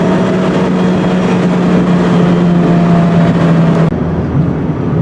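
Road and wind noise roar steadily inside a 2017 Fiat 124 or Mazda MX-5 Miata convertible with the top down, a loud continuous rush with an engine drone that drops abruptly near the end, no talk.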